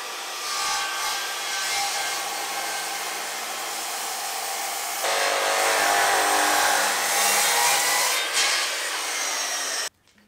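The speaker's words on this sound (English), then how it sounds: "I know it's a comical size saw" A small hand saw cuts through old timber ceiling joists with a continuous, dense rasping that grows louder midway and then stops abruptly. The sawing is close and sustained, with no talk.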